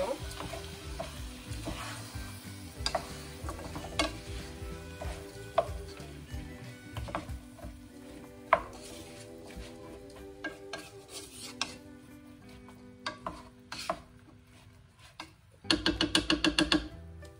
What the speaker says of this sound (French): Je viens mélanger tous les ingrédients.